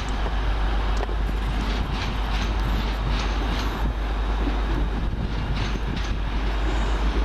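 A Northern Rail train at Manchester Piccadilly, a steady loud engine and rolling rumble that holds constant throughout, with faint station ambience layered over it.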